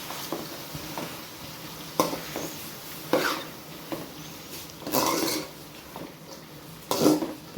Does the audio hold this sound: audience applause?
no